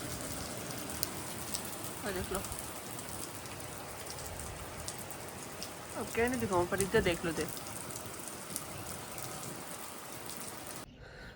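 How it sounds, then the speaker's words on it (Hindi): Steady rain patters on surfaces outdoors, a continuous soft hiss throughout, while someone speaks briefly over it in a few short phrases. "देखो बारिश आ गई"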